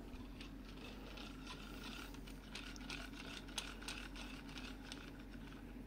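The jaws of a Vicmark VM100 woodturning chuck are opened from fully closed, giving a faint, steady mechanical whir with a light ratcheting, gear-like rasp and one small click near the end.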